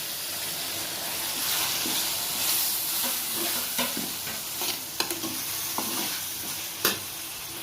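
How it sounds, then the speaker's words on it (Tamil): Onions and tomatoes are stirred and fried in a pan for choya gravy, giving a steady sizzle with scattered scraping clicks from the spoon, close and alone. "வெங்காயம் வதங்கிடுச்சுங்க. தக்காளி போட்டுக்கலாம்."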